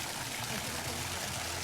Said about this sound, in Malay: Ada air sungai.